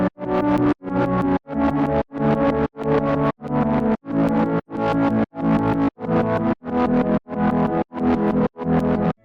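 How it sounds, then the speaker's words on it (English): Heavily distorted atmospheric synth pad from Omnisphere, playing a repeating pattern of about fourteen loud, sustained chord stabs, each cut off by a brief gap, full and harmonically dense with no voices. "With distortion it sounds like this."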